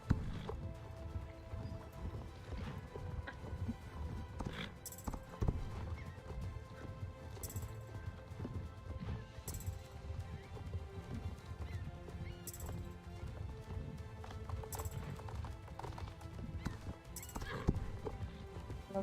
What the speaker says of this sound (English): Love this horse.